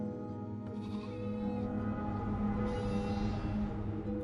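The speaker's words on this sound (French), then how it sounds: "les brebis rassemblées dans un coin. Elles ne cessent de bêler" Sheep bleat over and over in a flock gathered together, close and loud, the calls overlapping in a steady, continuous chorus.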